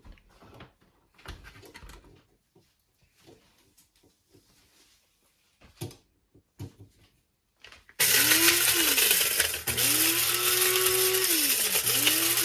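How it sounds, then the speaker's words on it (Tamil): Electric mixer grinder grinding dried red chilli pieces: after several seconds of quiet handling clatter, the motor cuts in loud and close with a harsh, steady whirring roar that holds to the end. "செத்தல் மிளகாய் துண்டு துண்டாக எடுத்து வச்சுக்கிறேன். அதை அரைக்க போகிறேன், இதில் அரைக்க போகிறேன்."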